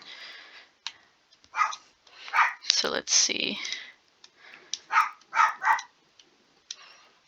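A dog barks in short intermittent bursts while a person talks briefly and keys click in quiet gaps between the barks.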